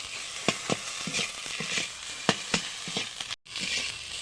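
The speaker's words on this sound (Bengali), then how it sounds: "পাতাটা প্রায় ভাজা ভাজা হয়ে এসেছে।" Kharkol leaf paste frying in a pan, a steady broad sizzle broken by sharp scraping and stirring clicks of a spatula at an irregular pace, close and moderately loud with no talking.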